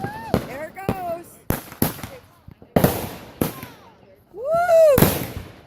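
Fourth of July fireworks go off in rapid succession, sharp booms and crackles, some with rising whistles, close and loud, with voices cheering between bursts.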